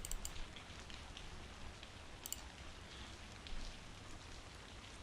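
Steady rain falling in a woods scene from the video game Date Warp, a soft continuous hiss of drops with faint scattered patters, quiet and even throughout.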